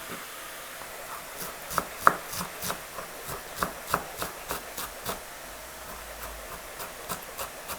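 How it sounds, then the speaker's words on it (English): A knife chops fresh cilantro and garlic on a cutting board in a home kitchen, a steady run of sharp, close taps in an uneven rhythm with no talking. "chop off some cilantro and work on my garlic"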